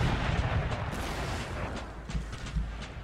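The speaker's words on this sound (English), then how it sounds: "they're about to receive quite a lot of fire and artillery from various directions" Artillery and musket fire in an Empire Total War battle, a dense rumble of booms and scattered crackling volleys that swell and thump at intervals, heavy and continuous, with no talking.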